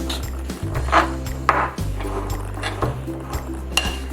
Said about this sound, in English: So I'll stir this up a little bit.